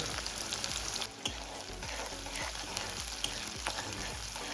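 Cumin seeds and finely chopped onions frying in hot mustard oil for a chana aloo curry give a dense, continuous crackling sizzle, loud and close throughout with a few faint knocks and no voices.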